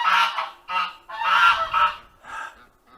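Geese honking outdoors near a forge and log-bucking area: loud, close, harsh honks in several uneven bursts separated by short pauses.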